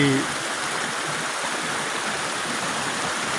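Flash-flood forest water from Lom Sak and Lom Kao pours into a farm orchard in Phetchabun, a steady, loud broadband rush like a stream, continuous throughout with a brief voice at the very start.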